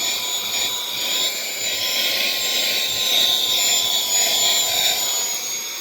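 A MECO portable vacuum blower runs continuously at close range, with a loud, steady motor whine and rushing air and no pauses.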